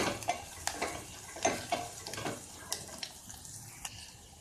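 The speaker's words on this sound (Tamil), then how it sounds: "நல்லா கிளறி விட்டுக்கலாம்." A spoon stirs chilli, curry leaves and crushed garlic tempering in a pan, giving a string of sharp metallic scrapes and clinks over a faint sizzle, close and with no talk.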